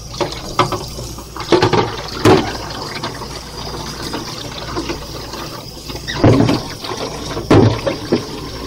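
Tap water runs steadily while the bottom of a Petmate pet water fountain is rinsed, with splashy surges and a few louder bursts as the stream hits the plastic, close up with no talk.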